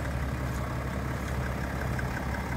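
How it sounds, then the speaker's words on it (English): A 2012 BMW 325d convertible's diesel engine idling, a quiet, steady low hum that runs evenly with no revving or talk. "And that superb engine."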